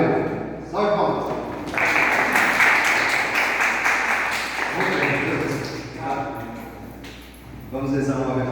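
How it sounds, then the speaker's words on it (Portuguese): Congregation applause greets a speaker at a religious talk, a burst of many hands clapping for a few seconds, flanked by someone speaking before and after. "Salve palmas."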